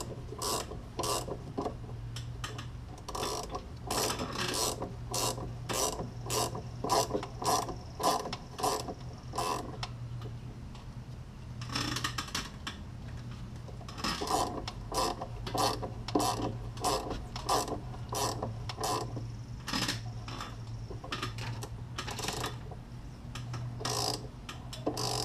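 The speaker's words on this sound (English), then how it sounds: "So I've got the nut tightened down where there's a few threads showing at the top" A ratchet tightening a nut during a Polaris RZR 570 Perfex 2-inch lift kit install, rapid repeated clicking strokes in bursts with brief pauses, close and fairly quiet over a low steady hum.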